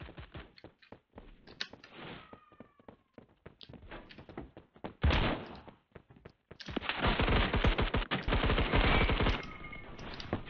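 Rapid gunfire in Roblox Phantom Forces, starting with scattered single shots and short bursts, then building into loud, sustained automatic fire with dense repeated cracks toward the end.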